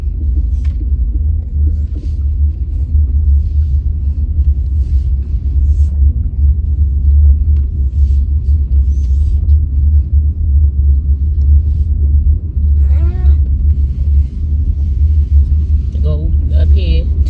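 A car driven slowly during a driving lesson, its interior filled with a constant low road and engine rumble while people talk over it.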